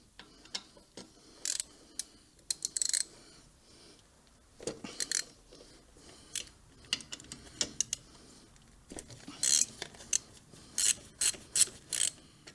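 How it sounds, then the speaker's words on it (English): Allen wrench working on the brake caliper bolts of a Harley Ultra Limited in a dim home garage, giving scattered sharp metallic clicks and ratcheting ticks in irregular bursts, fairly close and with no talking. "We're gonna need an Allen head to do that."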